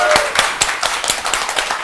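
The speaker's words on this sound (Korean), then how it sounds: "박수 주세요. 박수" A small studio audience at a Korean comedy cooking showdown claps in loud, close, distinct hand strikes, a loose rhythm of separate sharp claps rather than a dense roar.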